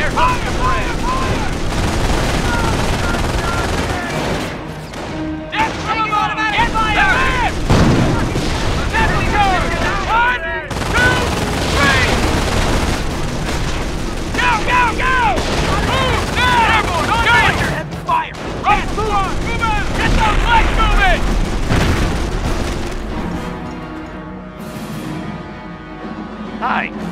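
Dense wartime gunfire and explosions from the World War II strategy game Company of Heroes, bursts of rifle and machine-gun fire with booms running almost continuously and loudly while soldiers shout orders over them.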